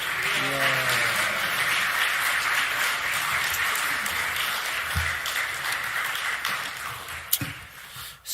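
Church congregation applauding to welcome a guest speaker, a steady wash of clapping that fills the whole stretch at an even level with a few sharper claps standing out near the end.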